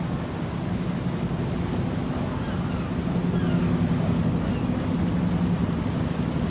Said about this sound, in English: You can hear the noise of the engine.